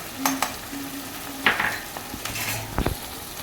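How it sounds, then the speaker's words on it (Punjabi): Ginger, garlic and green chili paste frying with onion in a pan, with a few stirring scrapes and clinks of a spoon against the pan over a soft background sizzle, close up and fairly quiet. "ਇਹਨੂੰ ਹੁਣ ਆਪਾਂ ਭੁੰਨ ਲੈਣਾ ਹੈ"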